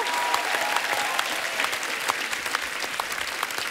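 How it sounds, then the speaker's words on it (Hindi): Studio audience on a Hindi TV comedy show breaks into loud, dense applause, a continuous roar of clapping that carries on steadily. "इनके लिए जोरदार तालियां हो जाए।"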